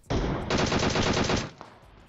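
Automatic gunfire from a player shooting at long range in PUBG Mobile, one short shot followed by a loud, rapid continuous burst lasting about a second before fading out.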